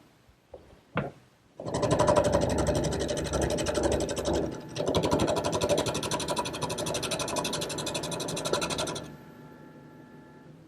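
A wood lathe spins a long, thin blank for a ladder-back chair while it is turned round. A couple of knocks come first, then about seven seconds of loud, close, chattering mechanical whirring, which stops abruptly.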